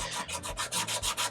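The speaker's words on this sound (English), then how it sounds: "I'm using probably too heavy of a grit, 80 grit" 80 grit sandpaper rubs in quick, rhythmic back-and-forth strokes over a Harley FXR clamshell saddlebag during restoration, close and steady with no talking.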